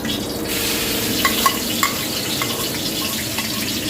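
Shrimp and chili are tossed into a hot pan for stir-frying with stink beans and minced pork, a sudden loud sizzle with quick clinks and scrapes of a spatula, close and continuous.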